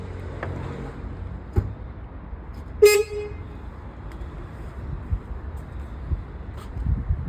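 A single short toot from a newly repaired car horn stands out over low engine rumble and background noise, with a few faint knocks around it.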